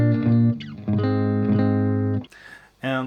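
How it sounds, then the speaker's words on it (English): A clean electric guitar with Telecaster pickups in the middle position plays through an Orange Micro Dark amp with nothing engaged. Sustained chords ring out, then a short quiet gap with light string noise, then another strum. "So the core sound of the Orange Micro Dark,"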